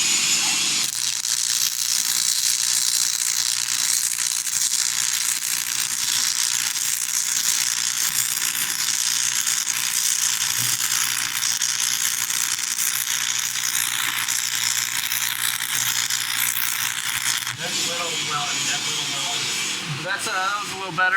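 Stick welding with 6011 electrodes gives a loud, steady crackling buzz that holds for about seventeen seconds before the arc stops, and brief speech and handling noise follow.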